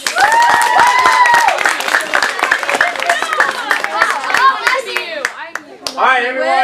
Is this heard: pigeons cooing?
no